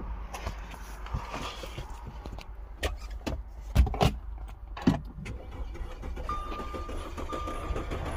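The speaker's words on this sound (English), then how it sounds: "That's a dead cylinder." A 2013 Audi Q5 2.0 engine idles rough with one dead cylinder misfiring, a low uneven rumble broken by irregular knocks and stumbles, recorded close up in a noisy setting without talk.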